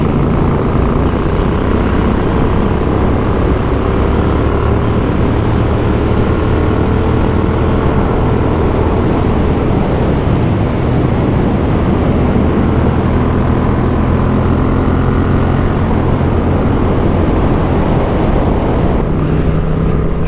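Quad bikes ride along a road in Normandy, a steady, loud engine drone with rumbling low tones and wind noise running unbroken throughout, the machines close by.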